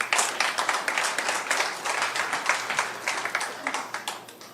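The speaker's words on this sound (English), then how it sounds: "I want you to just simply applaud if you are Catholic." Comedy club audience clapping in response to a comedian's request, a sparse, uneven patter of hands from part of the crowd, loud and close, rising and falling over several seconds without talk.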